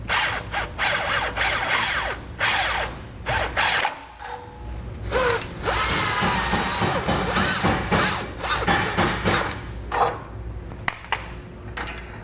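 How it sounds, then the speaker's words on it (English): An impact wrench snugs down the bolts on a Fulton boat trailer jack with wheel, firing in repeated loud, rattling bursts with short pauses between them. There is no talking. "I have my impact here to snug this down"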